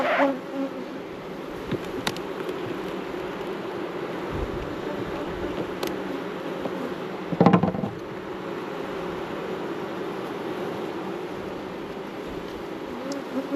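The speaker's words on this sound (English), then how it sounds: "let's shake some bees into here now." Honey bees hum in a dense, continuous drone close by while being shaken into a new hive, with a brief louder thump and rustle midway.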